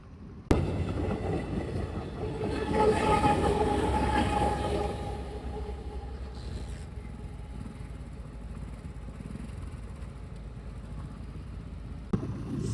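A train rumbles past close by at a closed railway crossing after an abrupt start, its loud rolling roar and rattling cars sustained, easing slightly toward the end with a sharp clank.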